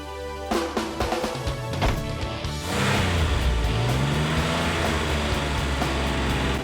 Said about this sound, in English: let me have my guy take it for a test drive real quick